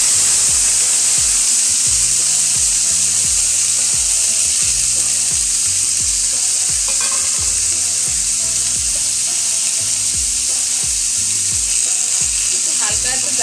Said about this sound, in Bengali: যেহেতু তেলটা গরম হয়ে গেছে, এবার আমি বাদাম দিব, কাঁচা লঙ্কা কুচি